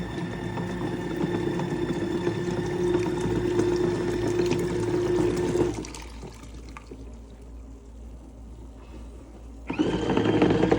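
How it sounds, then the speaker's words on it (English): A mini foldable washing machine on a 15-minute soft wash cycle, a steady motor hum with sloshing water, close up, dropping to a quieter churn midway before the motor surges again. "So I pushed this button. It says 15 minutes soft washing."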